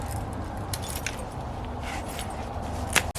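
Keys clipped to a belt jangle lightly with a few metallic clinks and a brief sharper rattle near the end, over steady outdoor background noise.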